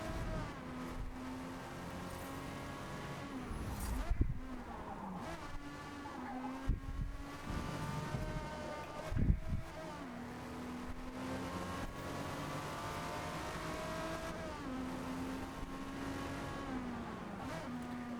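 Race car engines in Forza Motorsport whine and rev continuously, with the pitch climbing through the gears and dropping at each shift, plus brief louder bursts as cars run close together on track.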